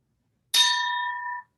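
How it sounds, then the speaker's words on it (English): A single bell strikes once with a sharp clang, and its clear metallic ring rings out and fades over about a second in silence. "There's the bell."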